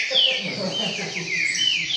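A coleiro songbird sings continuously with rapid, bright chirping trills close by, amid a lively outdoor gathering of bird keepers, with some background chatter underneath.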